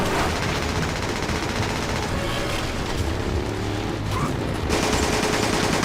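Rapid automatic gunfire and fusillades from the video game Resident Evil 5, loud and continuous throughout, with dense bursts layered over game effects.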